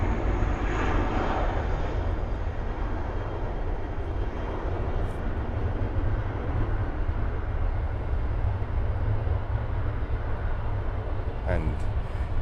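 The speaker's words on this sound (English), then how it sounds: "we have the first takeoff of the day. That's Spirit Airlines with an A320" A Spirit Airlines Airbus A320 takes off with a loud, continuous jet engine roar that holds steady throughout and carries heavy low rumble.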